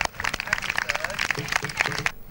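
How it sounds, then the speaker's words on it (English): At a town festival, an outdoor crowd gives a short round of applause, close and busy with individual claps distinct, while voices talk over it. "What about a big round of applause for our princess for the day?"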